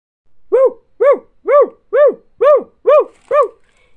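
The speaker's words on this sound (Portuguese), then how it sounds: "O que, que foi que você tá latindo?" A farm dog barks seven times in a steady rhythm at night, each loud, close bark evenly spaced with short gaps and no voices between them.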